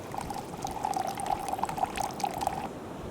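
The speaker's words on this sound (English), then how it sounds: "It's called low calorie margarita mix. Pour that in." Low calorie margarita mix pours steadily into a glass for a Jarana margarita, a close, continuous liquid glug and splash lasting a few seconds before stopping.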